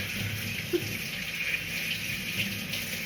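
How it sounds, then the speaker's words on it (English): A spatula rinsed under a running kitchen tap: a steady, fairly loud hiss of flowing water with faint splashes, continuous throughout and without talk. "I'm just gonna give my spatula a rinse to go in with the second bowl."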